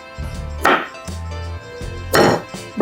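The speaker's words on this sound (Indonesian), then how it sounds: "kita potong wortelnya ukuran sedang aja ya" A kitchen knife chops carrots into medium pieces on a cutting board, two sharp close knocks with a steady low hum from the stove running underneath.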